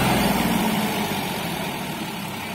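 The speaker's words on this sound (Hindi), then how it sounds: "भाई आप देख सकते हैं ट्रैक्टर की आवाज भी बदल गई।" A New Holland 3600-2 Super tractor engine runs steadily close by, a dense low rumbling drone that eases slightly toward the end, with no voices.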